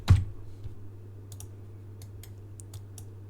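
Sparse, light clicks of a computer keyboard sound close by, one stronger tap at the start, then scattered keystrokes over a steady low electrical hum.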